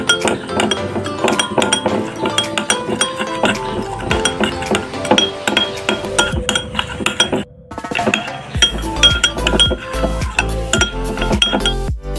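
A spoon clinks repeatedly against a bowl while rice flour face pack is mixed with gel, bright rapid metallic taps continuing steadily with a brief pause midway.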